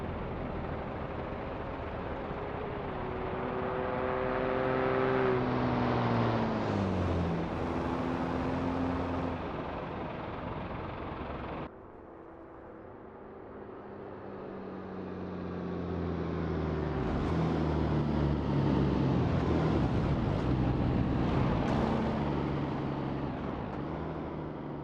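Mercedes-Benz L-Series formula trucks doing burnouts in a racing video game, a loud sustained engine roar with rising and falling harmonic sweeps, dropping briefly before swelling again, with no voices.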